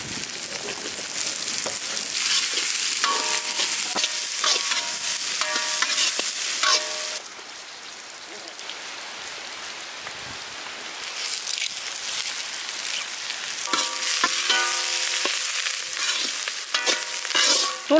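Big onions, small onions, garlic, ginger and green chillies frying in oil while being stirred for a goat boti dish, loud crackling sizzle with scraping spoon strokes, easing briefly in the middle before picking up again.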